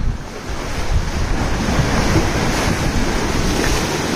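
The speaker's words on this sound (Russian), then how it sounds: "Ах, какие волны." Ocean waves crash and wash in a continuous roaring surf, with wind buffeting the microphone throughout.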